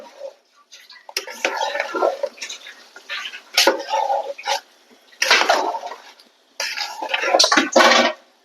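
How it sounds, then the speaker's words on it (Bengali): A wok (kadai) being rinsed with water after cooking biryani, bursts of splashing and swishing water separated by short pauses, close and moderately loud. "এই যে কড়াইটা একটু ধুয়ে"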